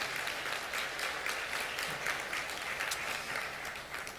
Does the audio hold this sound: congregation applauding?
yes